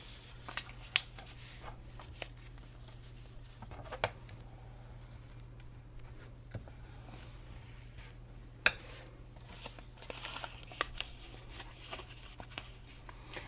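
A scored paper hot cocoa packet is folded by hand along its score line, giving soft, quiet rustles and a few sharp little creasing ticks spread over a faint steady hum, with no talking.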